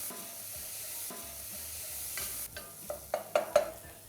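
Onion sweating in a pan with salt and pepper, a soft steady sizzle followed by a few sharp stirring scrapes toward the end.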